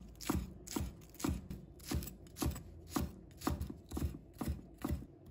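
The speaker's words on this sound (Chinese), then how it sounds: "再准备2根小葱，把它切成葱花。" A kitchen knife chops two green onions into small scallion pieces, striking the cutting board about a dozen times in a steady, close rhythm with no voices.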